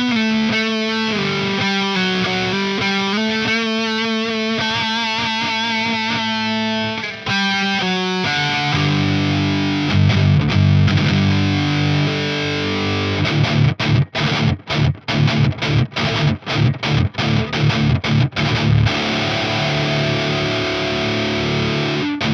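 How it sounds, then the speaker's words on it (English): PRS Zach Myers Private Stock electric guitar played through its neck pickup with crunchy distortion, sustained chords and riffs at first, then heavier strummed chords with choppy stops near the end, loud and without talk. "this neck pickup it's pretty crunchy for a neck pickup"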